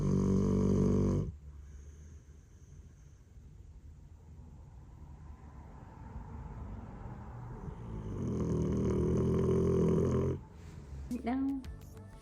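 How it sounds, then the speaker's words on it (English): Soft, slow snoring from a dog rumbles steadily in a quiet room, with a brief voice at the start and end. "I don't know if you can hear my dog snoring."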